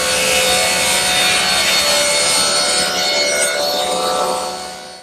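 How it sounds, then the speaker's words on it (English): A loud, steady power saw rips a mahogany board lengthwise for a chest's sides and top in a woodworking shop. The close, continuous whine and cutting noise runs for several seconds, then fades as the cut ends. "Now I want to rip the two sides and the top out of this piece."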